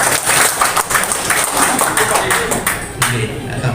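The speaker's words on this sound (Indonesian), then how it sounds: "Tepuk tangan teman-teman." Members of the Sidoarjo press applaud during a training session at Pop Hotel Timoho in Yogyakarta, a steady dense clapping that runs the whole time beneath a talking voice.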